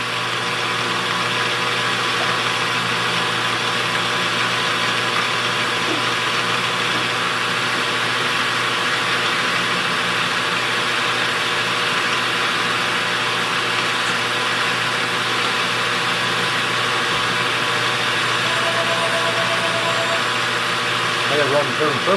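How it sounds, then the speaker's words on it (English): A home heating furnace runs with a steady, even hum and broadband rush at a constant level throughout, with a faint tone drifting in near the end and no clear breaks. "I'm going to turn my furnace on already"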